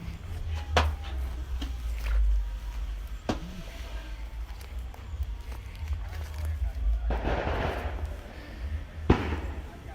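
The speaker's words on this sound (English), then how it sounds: "Saturday afternoon fireworks." Saturday afternoon fireworks going off outdoors, a few sharp distant bangs and thumps scattered over low rumbling background, with a person talking.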